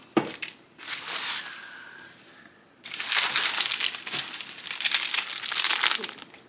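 Plastic packaging from a set of makeup brushes crinkles and crumples close by in two bursts, a lighter rustle first, then a louder, sustained crackling handling.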